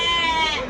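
A Bandur sheep at a sheep market in Mandya gives one short, loud, nasal bleat, heard close up.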